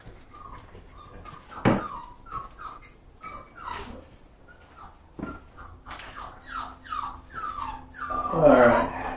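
A puppy whimpers and yips in a string of high, short cries, close and fairly loud, with a sharp louder yelp partway through and a few faint voices behind.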